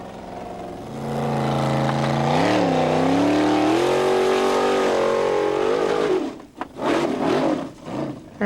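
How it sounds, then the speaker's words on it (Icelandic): A specially built off-road racing car engine at a Hella 2000 event revs hard and climbs in pitch for several seconds, then chokes into sputtering, uneven bursts near the end, loud and close. "Alveg óheimju kraftur í bílnum hjá honum."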